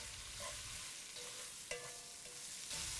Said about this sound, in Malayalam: ഇതുപോലെ മിക്സ് ചെയ്ത് ഏകദേശം 5 മിനിറ്റ് മീഡിയം ഫ്ലെയിമിൽ സ്റ്റിർ ഫ്രൈ ചെയ്തെടുത്താൽ മതി